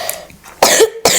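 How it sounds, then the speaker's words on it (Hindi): Two forceful coughing bursts ring out close and loud after a quieter stretch, the second one clipped short at the end, with no speech in between. "हाँ, तो खांसी आ रही है बहुत ज़्यादा"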